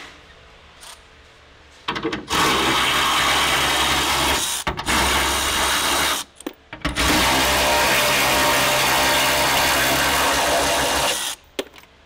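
Tools working on the hood bolts of a Nissan 350Z, with a steady low background that gives way to loud, dense mechanical whirring bursts from about two seconds on, broken by brief gaps.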